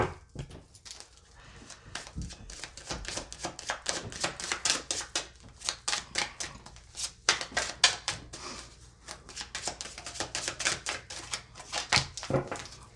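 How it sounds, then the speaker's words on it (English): Tarot cards flipped and shuffled by hand, giving a quick, irregular run of crisp slaps and riffles at close range, fairly soft overall with no talking. "Let's flip some cards."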